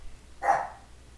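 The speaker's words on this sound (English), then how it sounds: "Excuse the dog barking." A single short dog bark, one brief muffled woof heard indoors at moderate loudness with no talk over it.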